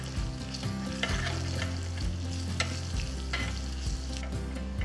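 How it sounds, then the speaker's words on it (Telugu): Curry leaves frying in hot tempering oil alongside ginger, green chilli, dried red chillies and asafoetida, giving a close, steady sizzle with crackling pops and occasional stirring scrapes, no voices. "కొన్ని కరివేపాకులు వేసి వేయించాలి."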